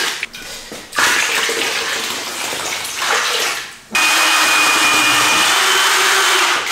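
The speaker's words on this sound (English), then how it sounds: "we're going to add 4 litres of water to this." Water, about 4 litres, poured into a tub of emulsion paint to thin it for a ceiling mist coat, giving a loud, steady broadband rush that stops briefly, resumes and then continues unbroken to the end.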